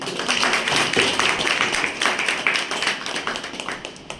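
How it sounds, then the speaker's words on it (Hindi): Audience clapping at a spiritual centre gathering, a continuous wash of many hands applauding at steady loudness for several seconds, easing slightly at the end. "तालियां आप सबके लिए।"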